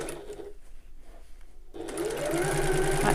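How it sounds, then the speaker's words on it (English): Sewing machine back stitching and overlapping a few stitches on a small hobo bag, a close, steady mechanical whir that briefly quiets, then runs faster and louder. "I've back stitched and overlapped a couple of stitches just to be sure"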